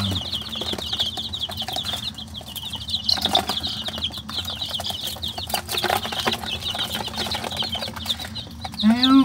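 Week-old baby chicks chirp constantly in high thin peeps inside a warm brooder, with occasional soft wing flaps and rustling up close.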